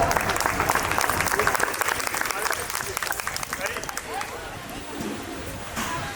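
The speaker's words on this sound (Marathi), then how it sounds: "सो एकदा या तिघांसाठी जोरदार टाळ्या होऊन जाऊया" An audience at a pageant show gives loud, dense applause that starts strong and tapers off over several seconds, close and full, with a faint murmur of voices underneath.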